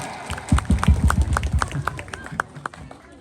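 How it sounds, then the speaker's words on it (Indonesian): An audience at an Indonesian Malam Tirakatan night gathering claps hard on request, a fairly loud burst of rhythmic applause that thins out toward the end, with voices mixed in. "Coba sekali lagi tepuk tangan yang keras."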